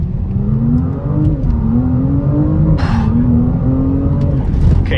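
Audi RS5 and BMW M5 G99 accelerating hard from a race start, a loud rising engine drone with a brief upshift dip and climbing pitch, heard close from inside the car with no talking.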